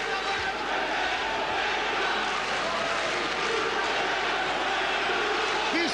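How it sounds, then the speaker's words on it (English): Dense, roaring crowd noise fills a kickboxing arena throughout, a steady loud wash of cheering and shouting with no gaps, voices blurred into a constant din during the Zambidis vs Gurkan Ozkan fight. "This crowd is deafening."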